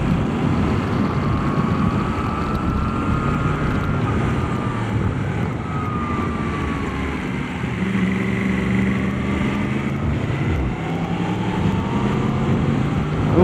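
A Yamaha MT10 motorcycle being ridden on the road, its engine droning loudly and steadily with shifting pitch as it accelerates, with no talking.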